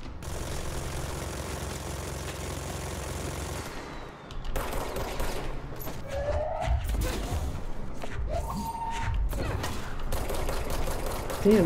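Sustained enemy gunfire in the video game Control, dense bursts of shots continuing loudly throughout with a brief dip near the start, layered over game ambience.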